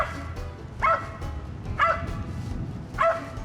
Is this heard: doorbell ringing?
no